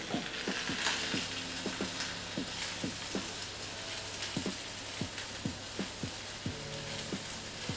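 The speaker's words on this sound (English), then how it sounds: "That sizzle sound is crisp." Oyster mushroom steaks sizzle steadily in hot oil, a dense crackling hiss with scattered sharp pops and spatters, close and continuous, with no speech.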